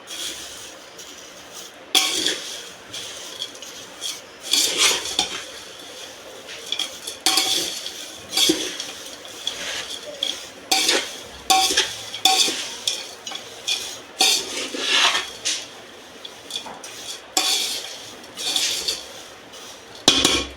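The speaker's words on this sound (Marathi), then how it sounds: "आता याला आपण चांगलं मिक्स करून घेऊ" Poha chivda is mixed with salt and spices in a pan for Diwali, giving repeated close scraping and clinking of a utensil against the pan in irregular bursts with brief pauses.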